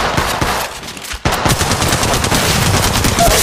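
Rapid automatic gunfire from the mobile battle royale game Apex Legends Mobile, with dense bursts of shots filling the scene, a short break near the start, then sustained loud, close fire.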